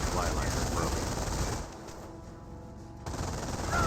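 MG42 machine gun fire in the Company of Heroes battle game, dense continuous bursts loud at first, easing to a lower rumble, then rising again amid battlefield noise.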